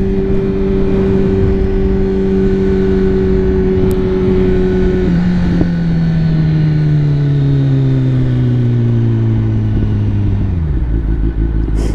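A liter-class 1000cc sport motorcycle engine cruising on city streets below 6,000 RPM, a loud steady close-up drone whose pitch holds then gradually drops as the bike eases off, continuous throughout with no talking.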